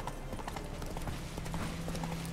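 Horse hooves clip-clop in a video game, a quick steady run of light hoofbeats at moderate distance against a soft, continuous background.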